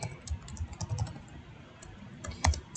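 Quick, light clicking of keys on a computer keyboard, a steady patter of taps with a few heavier strokes, close by.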